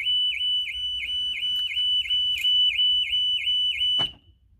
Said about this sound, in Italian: l'allarme comincia a suonare,